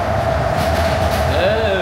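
Steady interior rumble of a moving passenger train in Davao, a continuous low drone with a faint high whine rising near the end, heard up close without a break.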